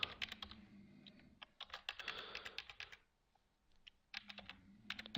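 Code being typed on a computer keyboard: quick bursts of close, crisp key clicks, with a brief pause before the typing resumes.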